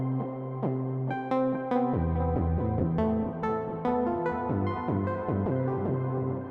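An Omnisphere synthesizer patch plays a sustained, evolving melodic line of layered tonal notes that shift pitch every second or so, loud and steady throughout with no voices.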